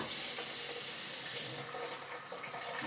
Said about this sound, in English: 2 cups of water in here.